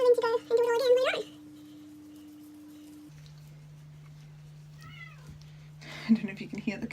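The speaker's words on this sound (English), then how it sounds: "I don't know if you can hear the cat meowing, wanting to come in." A house cat meows from outside a door, wanting to come in, heard as a few faint, brief cries behind a steady hum, with a person talking briefly at the start.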